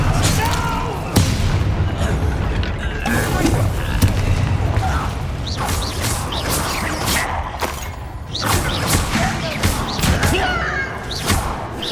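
A fire spell being cast in the video game Hogwarts Legacy amid combat: loud booming thuds and bursts repeat throughout, with dense layered effects and no pause.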